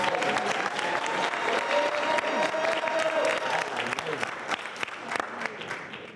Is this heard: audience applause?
yes